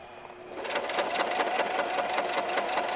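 Sewing machine stitching fabric along a tape guide, a steady fast mechanical whir with rapid repeating needle pulses, close and continuous after a brief quieter start.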